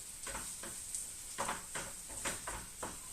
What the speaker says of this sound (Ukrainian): Ну хай смажиться